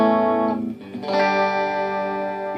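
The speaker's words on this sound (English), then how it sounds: "Here's in the fourth position here where you got a humbucker and a single coil." A Fender Player Stratocaster in the fourth pickup position, humbucker plus single coil, plays through an MXR '78 Badass Distortion into a Peavey Classic 30, giving a loud sustained distorted chord, a brief break, then a second ringing chord.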